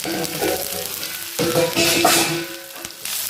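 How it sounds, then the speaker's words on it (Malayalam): Drumstick leaves sautéing with onion and cumin in a pan, heard up close as a crackling sizzle broken by several stirring scrapes and knocks of the spatula against the pan. "ഈ മുരിങ്ങയില നന്നായിട്ട് വഴറ്റുക"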